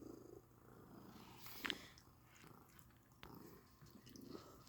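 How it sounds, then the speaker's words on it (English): A cat purrs softly and steadily up close, a low rumbling drone with faint rustling and a brief sharper noise partway through. "He's purring."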